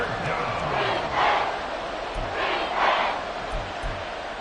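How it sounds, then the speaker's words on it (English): Stadium crowd in a Madden football video game, a loud continuous roar that swells in waves, with a commentator talking over it. "A big play here as the crowd noise rises."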